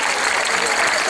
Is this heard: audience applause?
yes